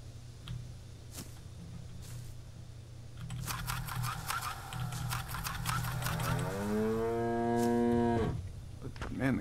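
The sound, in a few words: cows mooing in a video game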